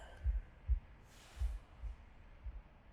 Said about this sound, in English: a deafening heartbeat